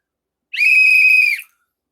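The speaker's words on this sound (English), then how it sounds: "Whistle." A cheap plastic emergency-kit whistle gives one steady, shrill blast close up, lasting just under a second, with silence before and after.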